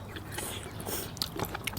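Close, crunchy chewing of blanched beef offal, with irregular crisp bites and wet mouth sounds over a quiet room background and no talk.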